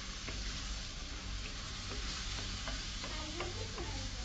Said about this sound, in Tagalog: Isa-disahin lang natin hanggang sa medyo matusta.